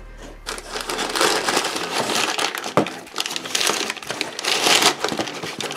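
Paper packaging being unwrapped from a model kit and crinkled, loud close-up rustling and crackling that runs continuously with sharper crunches throughout.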